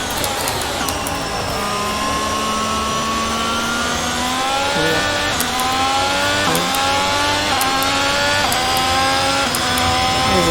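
An F1 22 race car screams through the gears at the Netherlands circuit in cockpit view, its loud high-revving engine rising in pitch with sharp upshifts, steady and close, with a commentator talking underneath.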